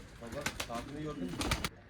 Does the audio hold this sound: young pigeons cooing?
yes